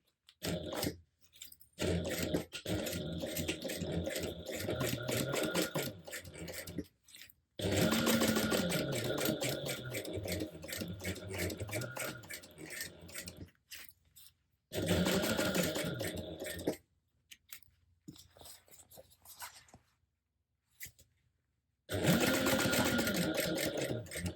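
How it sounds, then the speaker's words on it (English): A sewing machine top stitches across a handbag, its fast mechanical rattle running in several long bursts broken by short pauses, loud and close, with a little talk in between. "And then I'll be top stitching across here."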